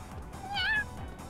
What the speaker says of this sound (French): Mais le chat est avec nous hein.